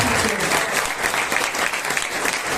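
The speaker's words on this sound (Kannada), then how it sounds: "ಎಲ್ಲರೂ ಜೋರಾಗಿ ಚಪ್ಪಾಳೆ" A church audience applauds loudly, dense continuous clapping from many hands filling the space at close range, steady throughout with no break.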